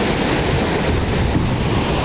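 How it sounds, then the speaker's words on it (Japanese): Typhoon-driven ocean waves breaking and churning at Sendai Shinko beach, a loud, continuous roar of surf and whitewater with wind buffeting the microphone, no voices. "でかい波が単発に来るのはゲットしやすいんですけど"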